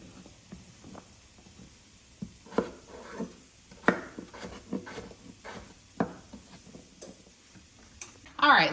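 A knife chops potatoes into dice on a cutting board, giving irregular sharp knocks scattered through the stretch, quiet and close, with a person speaking over the cutting.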